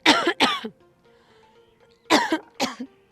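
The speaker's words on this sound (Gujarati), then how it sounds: "જોયું, ઉધરસ આવે છે ને." Two pairs of sharp, harsh coughs from a person nearby, each pair quick and close together, separated by a short quiet gap with faint background sound.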